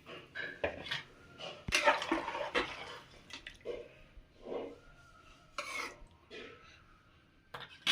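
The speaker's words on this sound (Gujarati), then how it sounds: "થોડું પાણી ઉમેરશું ઊંઝા અંદાજે ત્રણ ગ્લાસ જેટલું ઉલશે પાણી" Water, about three glasses, splashes and gushes in uneven bursts into a cooking pot for khichdi, with clattering and rubbing noises between pours.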